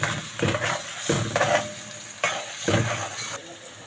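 Onions fry in a pan for Egyptian koshari, a steady close sizzle broken by repeated stirring scrapes and clinks of a utensil against the pan.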